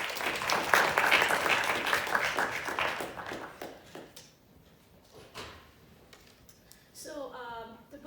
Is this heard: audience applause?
yes